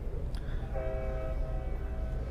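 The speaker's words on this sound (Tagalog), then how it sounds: "It's a train horn." A train horn sounds in a short, sustained tonal blast over a low rumbling background, steady and moderately loud, with no one talking during it.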